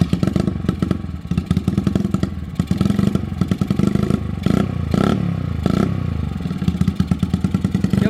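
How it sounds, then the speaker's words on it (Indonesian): A custom 1970s Honda GL scrambler motorcycle engine idles with a loud, close, rattling putter and is revved in several short bursts, the roar rising and falling. "Geber-geber aja dikit biar teman-teman tahu bunyi motornya tuh kayak gimana kalau nyala"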